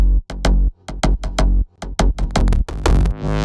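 Layered synth basses in a slap house track with a low pass filter opening, playing a punchy, choppy rhythmic pattern of short loud notes that brighten toward the end, with no talking.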